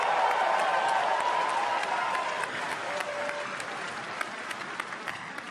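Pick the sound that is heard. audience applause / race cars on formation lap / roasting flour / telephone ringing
audience applause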